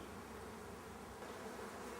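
Honey bees buzzing around honey supers pulled from hives, a dense continuous hum of many insects, close and steady, with no voices.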